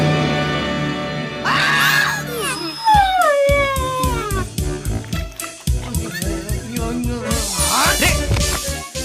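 A dog in a Telugu drama film scene howls and whimpers loudly in long, wavering cries, followed by a run of short, choppy yelps before a final drawn-out wail.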